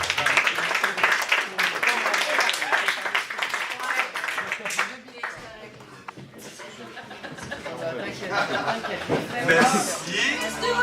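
A cabaret audience bursts into clapping and applause that carries on steadily for several seconds, with chatter and chuckling mixed in, then dips and swells back up toward the end.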